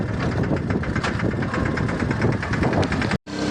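A farm tractor engine runs steadily close by, a loud rumbling chug with rapid even knocking pulses, briefly cutting out near the end before resuming.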